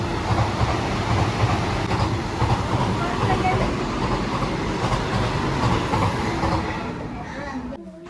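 A Vande Bharat express train roars past close by in a loud, dense rumble with rhythmic wheel clatter, holding steady before easing off near the end; faint voices may sit beneath the noise.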